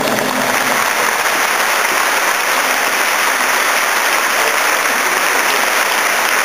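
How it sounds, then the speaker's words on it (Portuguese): Sustained round of applause for a tribute to a table tennis player, a dense steady clatter of many hands filling the room from start to finish with no voices over it. "Eu pediria uma salva de palmas para que a gente possa fazer essa homenagem."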